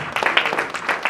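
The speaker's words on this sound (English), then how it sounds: "Let's give a round of applause as she comes." Scattered applause at a civil society convening greets a speaker walking on stage, a short burst of hand claps from a small crowd, moderately close and fairly even.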